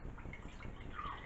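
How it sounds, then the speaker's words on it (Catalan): Cold water is poured into a kitchen container for a whipped-cream and burnt-yolk Swiss roll, making a faint, brief splash and trickle. "posem una miqueta d'aigua aquí"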